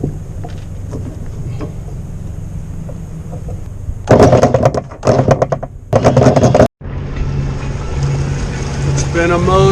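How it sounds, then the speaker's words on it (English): A sailboat motoring under engine power in very light winds on open water, its steady low engine drone running throughout, broken midway by a few seconds of loud wind buffeting and rushing noise. "so I motored most of the way"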